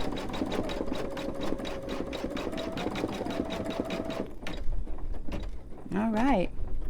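An embroidery machine stitches a Dollar Tree potholder with a fast, even mechanical whir and rhythmic needle clatter for about four seconds, then stops, followed by a few clicks and a short whistle-like tone.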